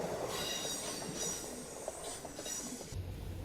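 A train with NCAR carriages on a mainline movement heading to Dry Creek near Adelaide rolls past steadily, with a continuous rumble of wheels on rail and faint metallic squeals, at moderate distance and no voices.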